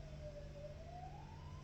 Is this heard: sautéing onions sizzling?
no